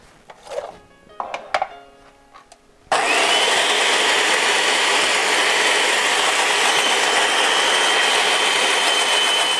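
Electric salad shooter slicer with straight blade shredding red peppers: after a few seconds of handling clicks and clatter, the motor starts abruptly into a loud steady whirring grind that runs on evenly to the end.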